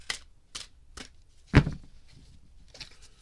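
Tarot cards shuffled in a series of crisp riffling bursts, about five quick rustles spaced roughly half a second apart, one louder and fuller, heard close with no talking.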